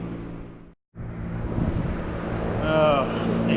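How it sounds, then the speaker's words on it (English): Steady broadband whoosh of a running fan fills a workshop during a Vintage Air install on a 1955 Chevy, continuous apart from one brief dropout, with a person talking over it. "Excuse the fan noise"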